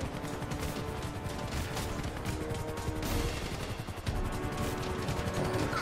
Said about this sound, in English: Why the hell are they shooting?